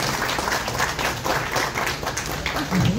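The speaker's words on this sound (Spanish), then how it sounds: "Un aplauso muy, muy fuerte" An audience at a municipal food collection event gives a steady round of applause, dense overlapping clapping held at an even level for a few seconds.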